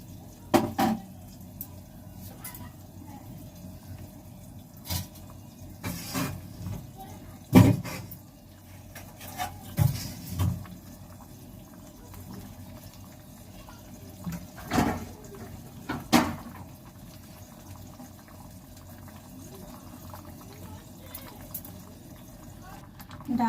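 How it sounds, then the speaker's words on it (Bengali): Lentil dal boiling in a pot in a home kitchen: faint, low bubbling and simmering that carries throughout, with occasional louder clinks and splashes and a voice talking intermittently over it. "ভালো করে ডালটাকে ফুটিয়ে নেব।"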